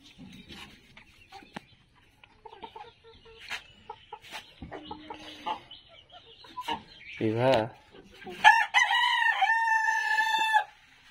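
Japanese Blacktail laying hens and roosters on a poultry farm give scattered soft clucks and calls, then a rooster lets out a loud, clear crow near the end.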